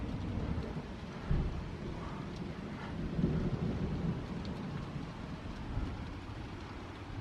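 A windy thunderstorm brings steady, dense rain on surfaces, with low rolling thunder rumbling beneath it and a couple of louder swells, continuous and without voices.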